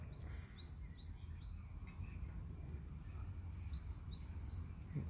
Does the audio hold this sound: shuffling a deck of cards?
no